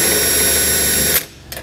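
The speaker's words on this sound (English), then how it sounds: "So I'm gonna go ahead and drill this out." Power drill boring through the thin metal heat shield of a 2020 Subaru WRX during a trailer hitch install, a loud steady high-pitched whine that cuts off abruptly, followed by a brief clatter.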